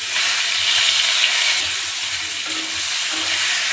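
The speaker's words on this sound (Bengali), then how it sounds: "মাছের আলুগুলো এবার ভেজে নিচ্ছি, নুন হলুদ দেওয়া হয়ে গেছে" Thinly sliced potatoes for a fish curry, already salted and coated in turmeric, fry in a pan with a loud, steady, close sizzle that holds evenly from start to finish, with no talking.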